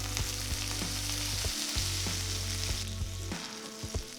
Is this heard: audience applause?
no